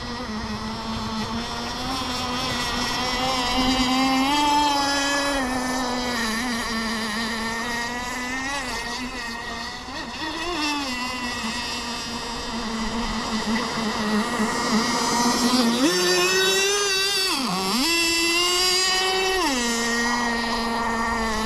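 Blackjack 26 nitro RC boat engine running rich and loud, a buzzing high-pitched whine that holds steady, then rises and dips in pitch with throttle changes, close and continuous.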